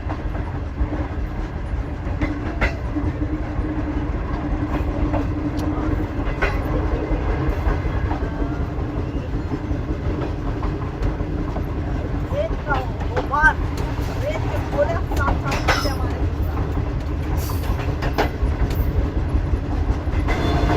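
A passenger train rolls across desert sand in the Thar Desert near the India border, giving a loud, steady rumble with faint clickety-clack and a whistle-like squeal, while a voice talks over the noise now and then.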